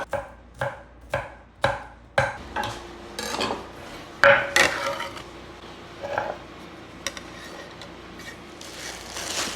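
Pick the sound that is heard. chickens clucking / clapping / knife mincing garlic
knife mincing garlic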